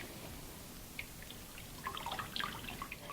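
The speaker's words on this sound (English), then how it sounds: "I'm just pouring in the almond milk. I'm lifting it and squeezing it." Homemade almond milk drips and trickles out of a squeezed nylon mesh nut bag, a faint, close patter of scattered droplets growing busier toward the end, with no talking.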